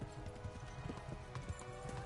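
A horse gallops in the video game Kingdom Come: Deliverance, its hooves clopping in a quick, steady rhythm, fairly quiet and with no voices over it.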